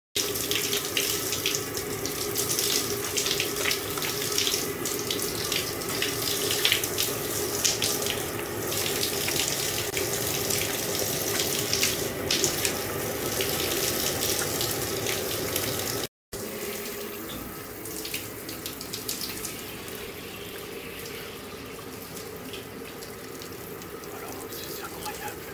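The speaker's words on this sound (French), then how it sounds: "Moi, je vais couper l'eau quand même." Water runs steadily from a tap into a sink, a continuous loud gush that stops briefly and then resumes at a slightly lower level.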